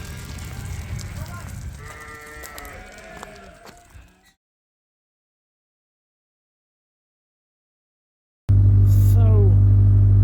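Sheep bleat repeatedly in a farm barn, mixed with shuffling and background activity, followed by a silent gap and then a loud steady engine hum with another bleat rising over it.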